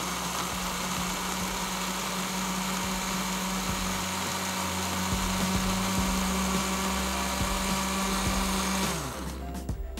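An electric blender whirs steadily while mixing cream with a second ingredient, a loud continuous motor hum with a constant pitch that cuts off near the end.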